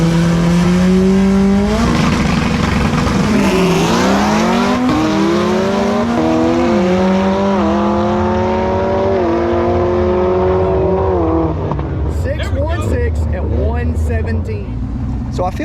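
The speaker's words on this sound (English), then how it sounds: "3 race cars, let's go." Three supercharged Camaro race cars rev loud and close at a street-class drag racing event, the engine pitch climbing and shifting steadily as they accelerate.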